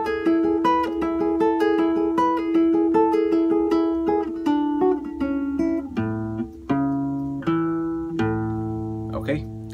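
A guitar plays a slow phrase of the Paraguayan song Punteada Okara, with clear plucked single notes and chiming melody lines ringing close and alone, without talk.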